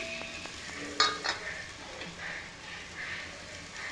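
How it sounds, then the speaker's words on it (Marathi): Double beans drop into a hot frying pan while a vegetable dish cooks; a steady sizzle runs throughout, broken by a few sharp scraping stirs near the start. "डबल बी घालते."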